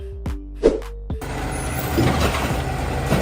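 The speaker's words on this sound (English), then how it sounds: "This is a side loader garbage truck that allows waste collection from curbside, ideal for neighborhoods with limited space" A curbside side loader garbage truck gives a droning engine tone with a few sharp knocks, then a sudden, sustained hiss of released air that carries on steadily to the end.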